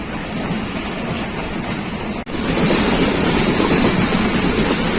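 The Rehman Baba Express of Pakistan Railways rushes past at speed near Gujar Khan, a loud continuous rumbling wash of wheels and carriages with a brief dip midway, no voices.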